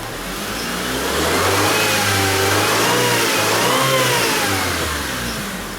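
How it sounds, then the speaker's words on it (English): A 2003 Honda Civic EX engine runs while warming up, a loud, steady mid-pitched hum that swells slightly in the middle before easing, with no speech over it. "I'm letting the car warm up so we can change the oxygen sensor"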